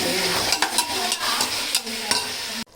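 Country chicken pieces sizzle in a pan alongside onion and tomato, a continuous fry broken by a run of scraping stirs, before the sound cuts off abruptly.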